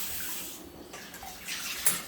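Dishes being rinsed under a running kitchen tap before going into a Bosch dishwasher: a steady near hiss of flowing water with brief splashy surges as items pass under the stream.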